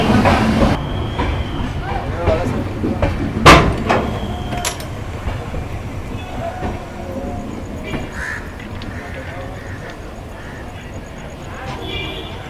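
Shivamogga Jan Shatabdi Express running on rails after brake testing, a steady rumbling rattle with a sharp clank partway through and faint voices in the carriage.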